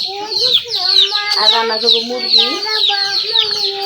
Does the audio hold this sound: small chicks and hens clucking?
yes